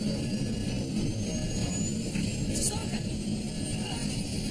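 An airliner at about 31,000 feet falls into a sudden drop, its cabin filled with a steady, dense engine and airflow roar. Indistinct voices sit beneath the noise.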